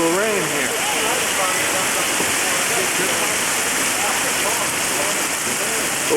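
Steady rain pours down outdoors at a moose hunt, a dense continuous hiss of falling water with voices talking faintly over it.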